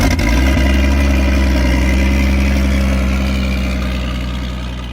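An AMC 4.0 liter inline-six engine runs at a steady idle, a loud, close, continuous low rumble with an even firing rhythm that fades slightly toward the end, with no talk over it.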